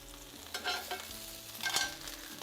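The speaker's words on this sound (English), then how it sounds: "We also add the onions that we just sauteed a little bit." Lightly sauteed onions sizzle and are stirred in a hot pan, a soft continuous frying hiss broken by a couple of scraping stirs, close and without speech.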